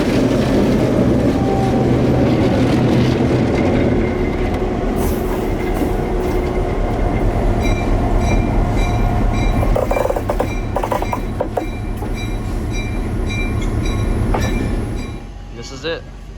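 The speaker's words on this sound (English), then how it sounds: "he shoves the train into the yard" CF7 locomotive number 204 shoving a passenger train into a yard at dusk, a steady loud rumble of engine and rolling cars with faint wheel clatter and squeal, continuous throughout before easing off at the end.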